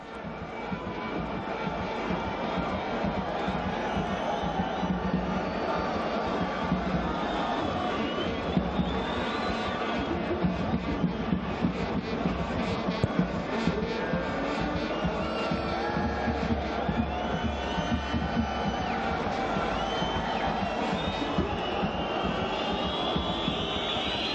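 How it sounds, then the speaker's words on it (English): Football stadium crowd at an AFC Champions League match between FC Istiklol and Persepolis, a continuous distant roar of cheering and chanting with occasional louder surges and whistles across the whole stretch. "Crowd again just trying to make their presence felt whenever Persepolis get on the ball."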